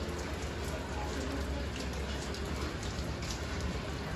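Rain falls steadily, a soft, even patter that stays constant for the whole stretch, with no other clear sounds above it.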